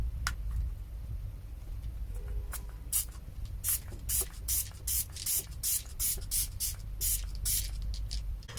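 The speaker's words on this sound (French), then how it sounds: "Le spray, je trouve qu'il est un petit peu petit quand ça spray." A cosmetic face mist spray bottle puffs out a rapid series of short, close hissing sprays in an even rhythm after a couple of scattered earlier ones, with no talking.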